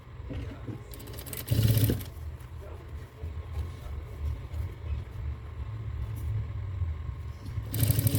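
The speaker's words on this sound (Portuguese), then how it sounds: "Estou passando a costura aqui e acompanhando o que eu marquei de vermelho aqui." A sewing machine runs steadily, stitching a zipper onto clear crystal plastic, its low motor hum continuous and close with brief louder bursts as the stitching speeds up.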